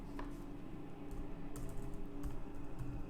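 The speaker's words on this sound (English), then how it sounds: "I was just typing something." Computer keyboard typing during an online Fallout tabletop role-play session, a steady run of quick clicky keystrokes with low room hum beneath, close to the microphone and without talk.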